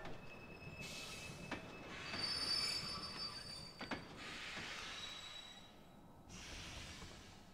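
A train rolls along its rails in the video game Kingdom Hearts II, with a constant low rumble, high metallic wheel squeals rising and fading, and a few sharp clanks; no one talks.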